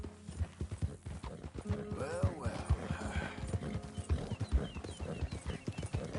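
A horse in Red Dead Redemption 2 clops steadily at close range, its hoofbeats thudding in a regular walking rhythm while someone talks over them.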